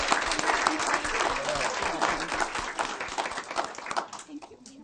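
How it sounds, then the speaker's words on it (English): Dense, sustained applause from a school board meeting audience for elementary school archers, many hands clapping steadily and close by before thinning out toward the end. "one more round of applause for our Rich Neck Elementary School archers"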